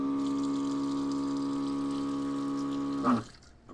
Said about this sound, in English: Let me show you the button to go ahead and activate the water pump